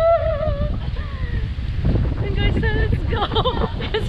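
Strong wind buffeting the microphone on a beach at low tide, a constant low roar under excited voices talking throughout.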